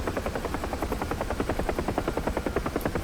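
UH-1 Huey helicopter in the DCS flight simulator, a steady rhythmic thumping of the rotor blades filling the whole clip at close range, with no voices over it.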